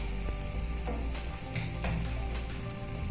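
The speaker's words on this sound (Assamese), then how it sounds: "মই গোটেইখিনি ভালদৰে মিক্স হোৱালৈকে ভাজি ল'ম।" Mutton with spices frying in a pan for an Assamese-style mutton gravy gives a continuous close sizzle, with scattered pops and the scrape of stirring; no voices are heard.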